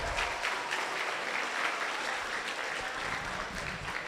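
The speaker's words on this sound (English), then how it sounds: "Let's give her one more round of applause." Audience applause at an evening session of a running camp, a dense steady wash of many hands clapping together, moderately distant and sustained without pause or voices on top.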